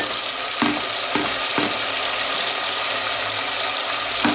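Tomato and onions fry loudly in oil in a pan, giving a dense, constant sizzle close to the microphone, broken by a few brief scraping knocks and no talking.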